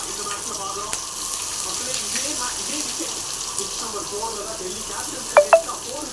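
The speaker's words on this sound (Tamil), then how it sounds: "வெங்காயம் போட்டு வதக்கி கொண்டிருக்கிறோம்" Onions sautéing in a pan with curry leaves and coriander for a beef curry, a soft, steady sizzle with a faint hiss throughout and two small clinks near the end.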